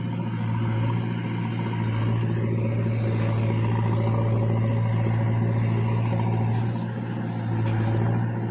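A tractor engine runs steadily at a coal loading site, a continuous low mechanical hum and rumble that stays fairly close and constant throughout, with no speech over it.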